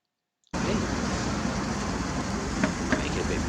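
A Renault Sport Twingo driving around a car park, its engine and road noise cutting in suddenly as a steady, fairly loud drone that holds for a few seconds.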